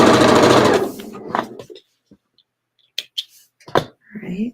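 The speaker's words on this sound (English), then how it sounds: "Sew our 1/4 inch seam." A sewing machine stitches a quarter-inch seam joining quilt sampler pieces, a loud close mechanical whir that runs steadily for over a second, then stops and gives way to scattered soft handling clicks and brief knocks.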